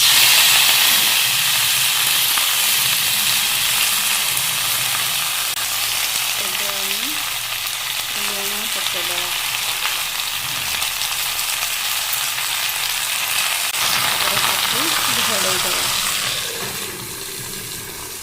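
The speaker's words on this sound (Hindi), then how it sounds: "तेल गरम हो गला आम पालक को पकेवा।" Spinach cooks in hot oil in a pan, a loud, steady sizzle and hiss lasting throughout, with brief stirring scrapes and faint voice-like tones partway through.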